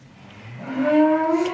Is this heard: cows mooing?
yes